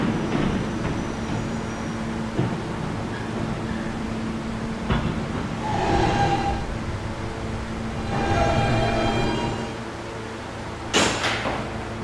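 An R160B E subway train runs along the track, a steady close rumble with mechanical squeals, clanks and rattling, swelling twice and ending in a sharp metallic bang, with no talk.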